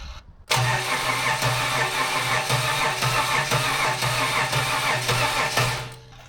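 An L67 engine in a rear-wheel-drive car cranks and catches, then runs at a steady mid-pitched idle close by for several seconds before cutting out.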